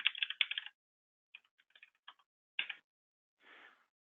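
Keys clacking as characters are typed on a computer keyboard in an office setting: quiet bursts of irregular clicks with short pauses, ending in a softer, longer rustle.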